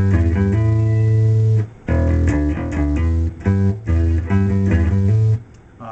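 A slow bass guitar riff, plucked notes, some repeated, with brief pauses between phrases and no voices.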